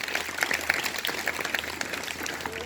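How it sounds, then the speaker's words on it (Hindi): Students clapping at a school morning assembly, a fairly faint but continuous patter of many hands with scattered sharper claps, no talk over it. "अच्छी तालियां बजाओ अपने"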